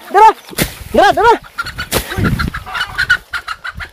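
A chicken clucks and squawks in a few sharp bursts up close, with rustling and scuffling noises between the calls.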